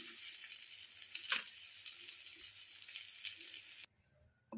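Garlic, curry leaves and peanuts fry in hot oil for an okra stir-fry, giving a steady, close sizzle with a brief clattering stir partway through, then cutting off abruptly near the end.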